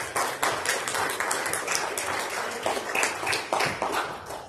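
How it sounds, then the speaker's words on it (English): A church congregation at a Sunday service claps in praise, a dense patter of many hands that stays steady and fairly loud throughout, with no talking. "Give the Lord a hand clap of praise."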